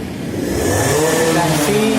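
A TVS Radeon BS6 motorcycle engine running close by after a self start, a steady, buzzing single-cylinder note that builds slightly and holds for a couple of seconds.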